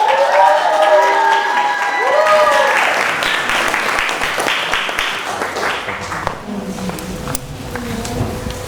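Loud applause fills the room for a performer at a storytelling contest. It opens with whoops and cheering voices, swells into sustained clapping from a large crowd, and gradually thins toward the end.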